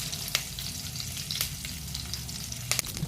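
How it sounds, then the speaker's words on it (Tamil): Spices and curry leaves sautéing in hot oil give a steady, close sizzle with a few brief louder crackles, no voices. "லைட்டாக வதங்கின பிறகு கொஞ்சமாக கறிவேப்பிலை போட்டு வதக்கிக்கலாம்."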